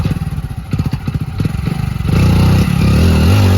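A Hero Splendor Plus motorcycle stuck in deep mud after heavy rain near the swollen Sutlej river, its engine chugging in uneven bursts and then holding a loud, steady revving drone.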